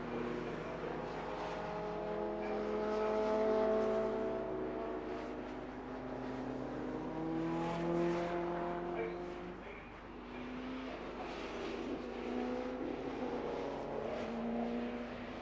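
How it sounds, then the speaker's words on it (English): Saloon race cars fill the grid at Oulton Park on a dry, sunny day, their engines droning and rumbling at a distance in a steady, overlapping hum with gentle swells in level. "A full grid of cars coming out for this race"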